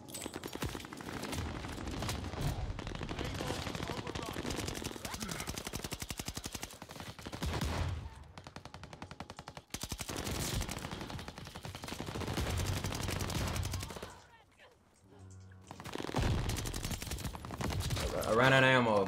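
A KG-M40 rifle with the Grafito blueprint fires in a Call of Duty match, loud bursts of rapid automatic shots repeated across the scene with brief pauses between volleys and game sounds filling the gaps.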